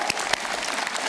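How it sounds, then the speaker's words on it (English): Applause from a commencement crowd for the class of 2016 at Mary Baldwin College, a dense, steady wash of many hands clapping with a few sharper bursts, loud and continuous throughout. "So let's round of applause for us."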